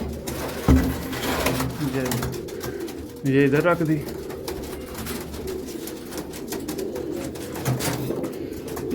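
Pigeons coo close by in a breeder cage, a soft warbling burst standing out mid-clip over steady cage rustle, while someone speaks throughout.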